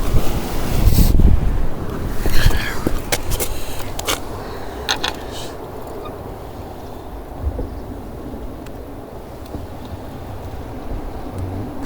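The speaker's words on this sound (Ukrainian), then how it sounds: "після того парома такі хвилі" Sea waves stirred by a passing ferry's wake wash and splash near the shore at Kåseberga, with steady wind buffeting the microphone throughout and a few louder surges early on.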